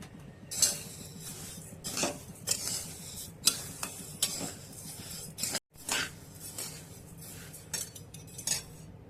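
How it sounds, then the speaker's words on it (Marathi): Kombdi vade flour ingredients dry roast in a pan, heard as quiet repeated scrapes and clinks of a spoon stirring against metal, irregular and close, with a faint hiss between strokes. "हे सर्व साहित्य घेतलेलं आहे ते भाजायचं"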